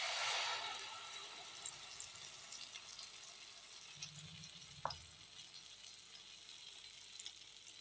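Almond paste being fried on a low flame for a fasting sweet, a quiet, soft sizzle with occasional light clinks of stirring against the pan.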